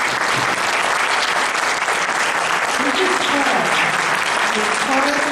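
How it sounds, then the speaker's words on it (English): Loud, sustained audience applause for the candidates at a 2022 Radford city council and mayoral candidate forum, a thick continuous roar of clapping with voices faintly mixed in underneath. "Can we give our candidates a round of applause?"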